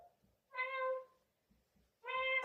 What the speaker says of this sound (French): Je savais pas que j'avais un petit chat dans la maison.